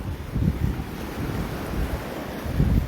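Cold September wind gusts across a seaside beach while waves wash onto the shore, a steady full roar of surf and wind buffeting the microphone, with no voices.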